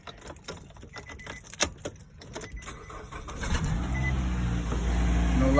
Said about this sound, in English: Show that it turns on and the exhaust runs fine.